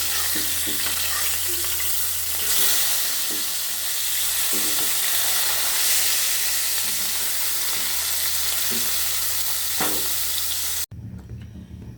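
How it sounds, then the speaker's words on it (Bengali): Potatoes frying in hot oil give a loud, steady close-up sizzle with faint clinks of stirring, cutting off sharply near the end to a quieter room tone; no one speaks. "এখন আলুগুলো ভেজে নেব।"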